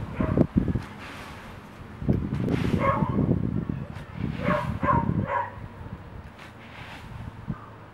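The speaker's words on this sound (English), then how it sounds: "Is that Frankie barking?" A pit bull puppy barks in several short bursts, some sharp and close, others in quick pairs, amid gusty wind and rustling, with occasional voices.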